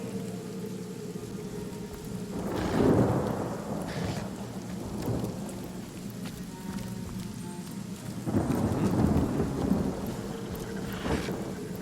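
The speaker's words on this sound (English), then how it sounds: "let's just take the rain scroll and let it rain" Game rain and thunder conjured by a rain scroll in Divinity: Original Sin, with steady rainfall hissing throughout and two rolling thunder rumbles swelling and fading several seconds apart.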